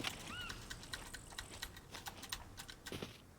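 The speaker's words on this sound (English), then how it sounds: "I don't know if you can hear me pressing my keys or not, but it's fucking hammering scroll wheel, W, and fucking spacebar" Computer keyboard keys, including W and the spacebar, and a mouse scroll wheel hammered fast during a SCUM game, giving quick uneven clatters close to the mic, with a brief chirp early on.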